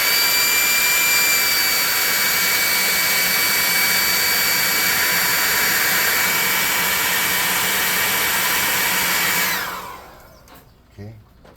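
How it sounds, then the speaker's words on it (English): A loud, steady hairdryer blows loose flock off a tabletop-game model with a constant high whine for about ten seconds, then shuts off and winds down, leaving faint handling noises. "let's hit this with a hairdryer again and knock off some of that loose flock"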